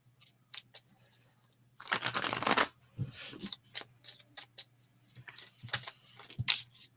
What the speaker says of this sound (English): Sloppy shuffle right away.